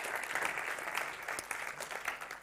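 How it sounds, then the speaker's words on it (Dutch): An audience claps at a presentation event on access to culture, a dense, steady burst of applause from a room full of people, fairly quiet and with no voices over it. "geef ze even een applaus"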